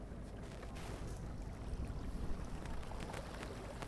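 A motorboat engine runs at full RPM in reverse while an anchor is tested in the water, giving a steady, loud, broadband churning roar that holds throughout with no talking.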